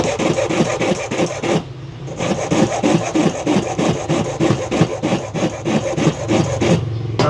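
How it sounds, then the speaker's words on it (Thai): A coarse hand file works an acrylic amulet frame with steady, rhythmic back-and-forth rasping strokes, close and loud, pausing briefly once before the filing resumes at the same pace. "ตะไบหยาบนะครับ พยายามตะไบให้ตั้งฉากลงไปอย่างนี้นะ"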